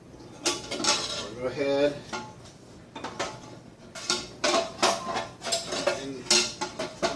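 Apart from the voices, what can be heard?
stirring lactose into beer wort in a pot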